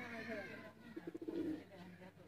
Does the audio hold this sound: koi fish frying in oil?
no